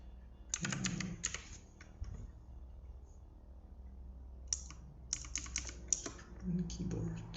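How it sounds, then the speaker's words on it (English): Typing on a computer keyboard, two bursts of quick clicky keystrokes separated by a quiet pause, close but soft with a low hum underneath. "Keyboard."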